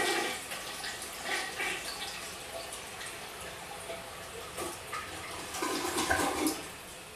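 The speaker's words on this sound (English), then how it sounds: "Gotta flush that one." A toilet flushes in a bathroom, a steady rushing water sound with gurgling swells near the end, moderately loud and close, with no talk over it.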